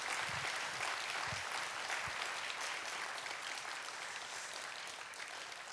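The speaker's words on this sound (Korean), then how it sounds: "감사의 박수." A church congregation claps in thanks, a steady wash of dense applause heard from across the room, holding evenly and tapering slightly toward the end.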